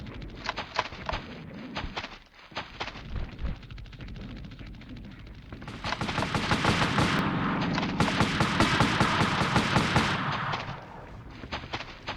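Gunfire aimed at an aircraft in the Army Men video game, a steady stream of rapid shots that swells louder and denser midway, with some chirping bird-like sounds mixed in at the start.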